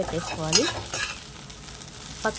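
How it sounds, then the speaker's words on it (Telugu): An egg frying in a pan for street-style egg noodles, a steady sizzle with a few louder scraping stirs near the start and end, close and alone without voices. "ఇలా మంచిగా ఫ్రై చేసేసుకొని దీన్ని పక్కన"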